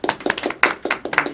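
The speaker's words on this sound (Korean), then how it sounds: "박수" Applause from a small study group audience in a book-study class, a handful of hands clapping in a quick, fairly even rhythm, close and distinct rather than a full roar.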